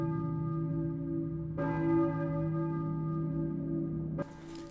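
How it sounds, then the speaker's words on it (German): Church bells ring in the distance in the video game Silent Hill 1, sustained rich tones overlapping and humming, with a fresh strike late on, and no voices. "Als Harry den Boilerraum verlässt, hört er plötzlich Kirchenglocken aus der Ferne läuten."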